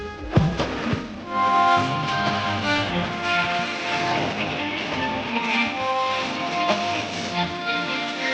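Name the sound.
victory chant song recording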